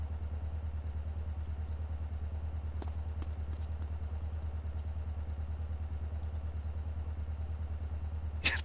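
A fast motorbike in GTA San Andreas gives a steady, low rumbling engine drone that holds constant throughout, with a few faint clicks and a brief louder burst at the very end.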